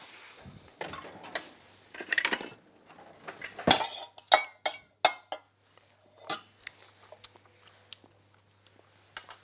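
A whisk clinks and rattles irregularly against a bowl, emulsifying a herb salad dressing by Alain Ducasse, with sharp metallic ticks scattered over a quiet background.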